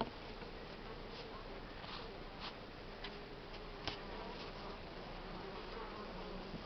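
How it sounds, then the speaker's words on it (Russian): Buckfast honey bees buzz in a continuous low drone inside a hive in February frost, with occasional louder passes as individual bees fly close by, no talking. "Видно, на потолочине пчелы сидят."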